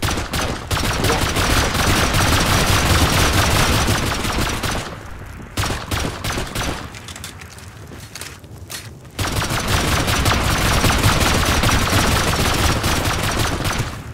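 Sustained gunfire in the Rust survival game, aimed at a base wall during a raid: loud, dense bursts of rapid shots that pause briefly in the middle and then resume just as heavily.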